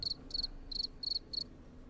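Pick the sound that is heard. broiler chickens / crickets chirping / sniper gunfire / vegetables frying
crickets chirping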